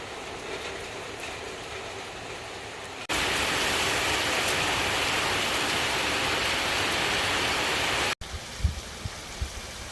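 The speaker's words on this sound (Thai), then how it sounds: "เพราะว่า ฝนมาแล้วค่ะ" Rain falling on a garden comes in as a sudden, steady broadband hiss that holds for several seconds before cutting off, leaving a softer background with a few close knocks.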